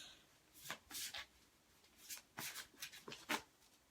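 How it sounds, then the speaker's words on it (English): Tarot cards are shuffled in a few quick, soft riffling bursts, close and fairly quiet, with brief pauses between them and no talking. "I'm going to shuffle some more because I don't think that one wanted to come up."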